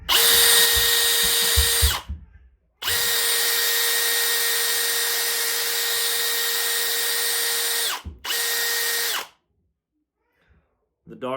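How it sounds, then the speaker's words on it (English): Close, loud whine of a Milwaukee M18 cordless drill spinning a pencil in a sharpener, running in three steady bursts with short pauses between them and a final stop. "M18 drill."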